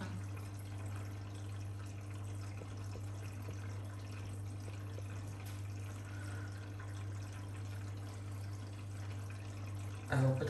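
A Blomberg washing machine fills with water at low pressure, a constant soft rushing inflow over a steady low hum, with a brief louder knock right at the end.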